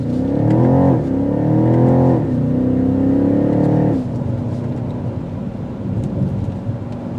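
A 2022 BMW X6 M50i accelerating hard in sport mode, its engine and exhaust climbing in rising sweeps with gear shifts before easing into a steady, lower cruising rumble of road noise.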